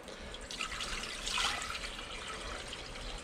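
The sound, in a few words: water poured into a cooking pot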